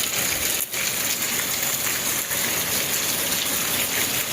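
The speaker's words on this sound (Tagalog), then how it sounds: "Umuulan na naman, wala na." Heavy rain pours steadily over a rural vegetable garden, a dense, continuous rushing wash with no breaks, fairly loud and close, with no voices.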